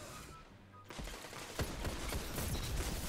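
Graviton Lance pulse rifle fired in the Destiny video game, several quick bursts of sharp shots in a rapid rattling rhythm, fairly loud in the mix.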